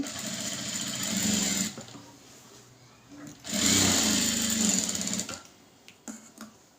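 A sewing machine stitching a designer blouse runs in two loud whirring bursts, with quieter handling and fabric noise between them and near the end.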